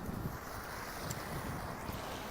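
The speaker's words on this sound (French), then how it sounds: "Ah, de l'eau." Water running in a garden in the old centre of Salon-de-Provence, a steady close splashing wash heard on its own with no talk over it.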